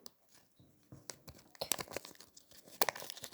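Close, quiet crinkling of a plastic bag, with irregular rustles and sharper crackles as it is handled and scrunched.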